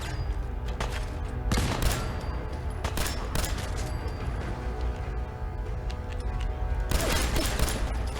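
Pistol shots in the video game Fallout 4 fire in scattered bursts over a steady, loud, rumbling game soundscape, with no talking over them.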